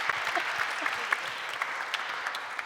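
Audience at a closing ceremony for the IAF 70th anniversary applauds a couple, steady clapping from many hands at moderate distance with no talking over it.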